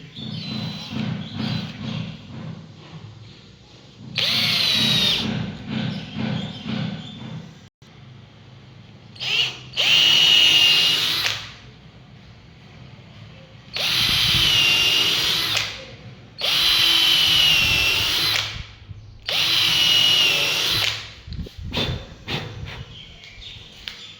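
Screwdriver drill boring holes for fitting door hinges: five or six loud, whining bursts of a few seconds each, separated by short pauses, close by with faint handling noises between runs.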